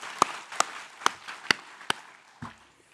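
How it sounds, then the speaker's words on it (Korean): Five sharp, evenly spaced hand claps ring out during a Korean church worship service, faint against a quiet room, followed by a soft low thump. "박수를 하나님께 드리겠습니다"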